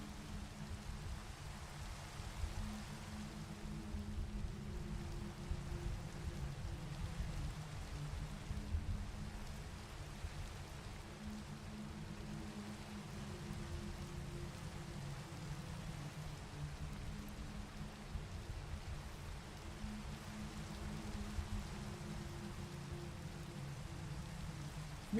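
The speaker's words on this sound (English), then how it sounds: "It's raining again." Video game rain falls as a soft, even hiss of steady drops, faint and continuous with no pauses, no voices over it.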